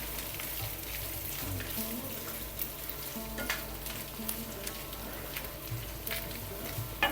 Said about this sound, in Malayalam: കുറച്ച് കറിവേപ്പില ഇട്ട് കൊടുക്കേ ഇതിലോട്ടൊരു നാല് മുളകും കൂടി ഇട്ട്